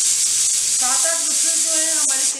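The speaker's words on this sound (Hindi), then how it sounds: "प्रेशर कुकर हमने बंद कर दिया है, नीचे से गैस को हमने खोल दिया है। हम इसमें 5-6 विसल्स आने देंगे" A pressure cooker on a gas stove cooking dal and vegetable khichdi lets off a loud, close steam whistle, a strong hiss that rises into a sustained wavering tonal shriek and holds steadily.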